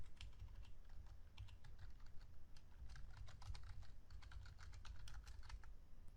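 Someone typing SQL code on a computer keyboard, soft rapid key clicks in irregular bursts over a low steady room hum, quiet and close with no talking.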